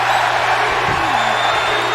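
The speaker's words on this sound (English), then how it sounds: "And here we go, the crowd getting started." An arena crowd at a televised wrestling match keeps up a steady, dense roar of cheering and noise, with a low electrical hum beneath it.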